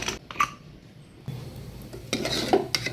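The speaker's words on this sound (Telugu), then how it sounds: "మూత తీసుకుందాం" A pressure cooker lid comes off after the pressure has been released from a batch of soya bean curry, with metallic clanks and scraping of metal cookware near and clearly heard, growing busier toward the end.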